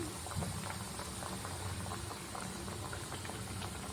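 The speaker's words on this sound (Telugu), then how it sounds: "రెండు వైపులా టర్న్ చేసుకుంటూ బాగా వేయించుకోవాలి" Eggless, yeast-free donuts fry in hot oil, giving a steady, fairly faint bubbling sizzle with no talking over it.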